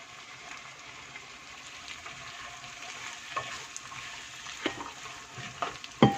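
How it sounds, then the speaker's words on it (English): Chopped tomato, carrot and peas hit a hot pan and fry with a soft, continuous sizzle, with a few louder scraping and clinking accents toward the end, fairly quiet and close. "I am going to be adding now 1 tomato, 1 carrot, and a little bit of peas"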